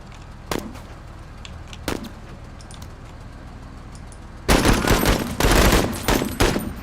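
Suppressing gunfire in the squad tactics game MENACE: a couple of isolated distant shots, then a loud sustained fusillade of rapid automatic bursts that continues to the end.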